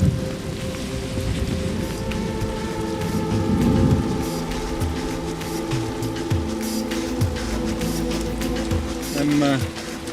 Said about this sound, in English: which the rain's here now